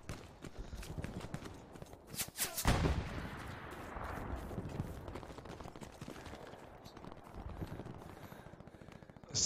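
Gunfire in the video game Jarvenhill, with sharp shots and a loud burst around the middle amid busy clattering game sounds, some distant, no voices.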